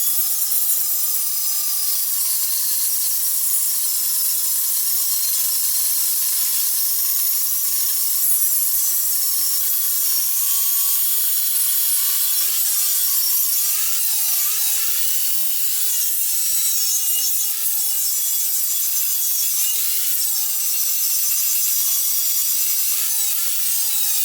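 An angle grinder works steadily on a metal Stormbreaker axe prop, roughing it to shape with a continuous high, bright grinding whine and slight pitch wobbles as pressure changes.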